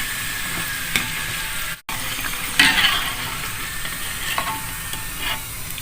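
Steady crackling sizzle of cireng, filled tapioca snacks, frying in hot oil, with occasional stirring clinks and scrapes, close up and continuous.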